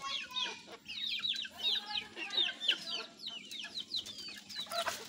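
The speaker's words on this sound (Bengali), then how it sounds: "মুরগিগুলো দেখেন মাশাআল্লাহ একদম ফ্রেশ, কেউ কারোর সাথে ঠোকরাঠুকরি করে না" Native chickens kept in a cage give a steady stream of close, overlapping clucks and short squawks, with the sounds of several birds layered over a low background hum and no talking.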